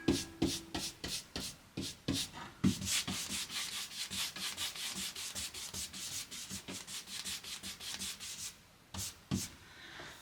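Steady hand rubbing on wooden furniture to remove scuff marks, a dry scrubbing sound repeated in quick, close strokes with brief pauses, no talking.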